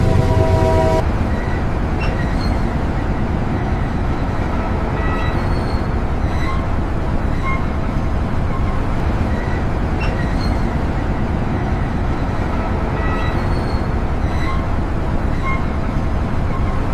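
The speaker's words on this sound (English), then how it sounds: "Dispatching locomotive now." A locomotive departing while hauling container cars: a steady, loud rumble of rail movement with faint intermittent squeals and clanks running throughout.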